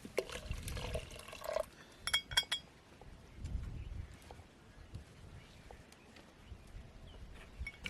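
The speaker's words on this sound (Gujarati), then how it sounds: "થોડું પાણી નાખી દઈએ આપણે" Water is poured into a pot of dal cooking with turmeric and coriander-cumin for dal dhokli in a village kitchen. A faint liquid splash is heard, mixed with light clinks of utensils, recorded quietly and close.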